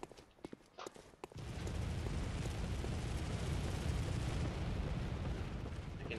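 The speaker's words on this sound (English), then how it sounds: "I can hear him firing off those bullets." Enemy gunfire in the Bloodborne video game, a few sharp shots at the start followed by a loud, sustained rumbling roar of battle noise.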